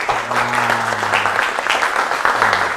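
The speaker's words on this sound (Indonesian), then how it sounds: "Tepuk tangan semua." Students in a classroom break into applause, a continuous dense clapping from many hands, with a low tonal hum or voice-like drone sounding beneath it at the start and end.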